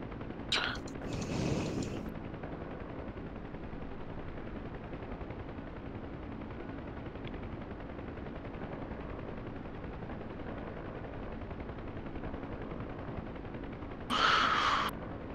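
A helicopter's guns fire at a factory in the flight simulator DCS World, with a short burst at the start and another near the end over a steady engine drone.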